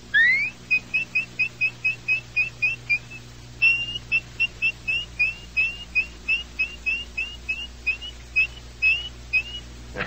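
An animatronic robin from Disney's Tiki Room whistles a long run of short chirping notes in steady rhythm, with a brief pause midway, over a low electrical hum.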